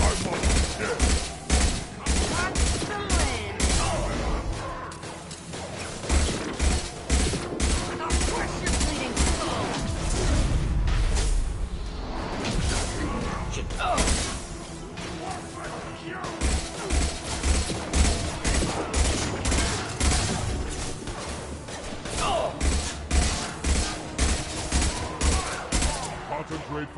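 A firefight rages in the video game Mass Effect, with dense rhythmic bursts of automatic gunfire and heavy thuds repeating for nearly half a minute, loud and close, with voices occasionally speaking in between.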